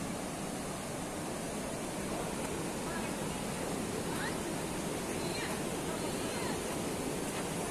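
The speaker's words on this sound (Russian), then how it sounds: "Вы, наверное, слышите, как бурлит река." A swollen river after a mudflow rushes past a city street in Yalta, giving a steady, dense roar of churning water that stays close and loud throughout, with no voices over it.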